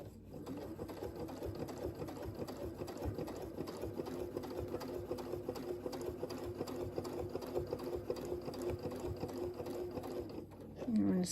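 A sewing machine runs steadily for about eleven seconds while stitching a churn dash mini quilt, producing a continuous close motor whir with a rapid needle rhythm that stops briefly near the end.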